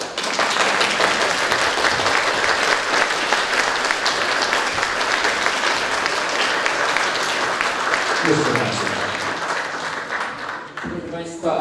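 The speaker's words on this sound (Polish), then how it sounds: "Brawa dla nich!" An audience at a Polish spring folk-singing event in Kurów claps in sustained applause for several seconds, with a voice speaking over it near the end as the clapping thins.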